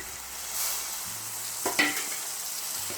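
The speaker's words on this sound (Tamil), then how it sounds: "தக்காளியும் நல்லா குழஞ்சி வர வரைக்கும் வதக்கிக்கலாம்" Tomatoes sauté with ginger garlic paste for a mutton kulambu, a steady close sizzle with a few sharp spoon scrapes against the pan near the middle.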